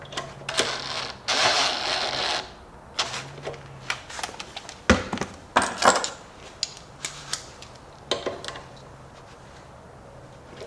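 A ratchet socket wrench works on the carbon intake install of a 2014–2017 Audi SQ5, giving close metallic ratcheting clicks in short irregular bursts separated by brief pauses, with occasional handling clatter.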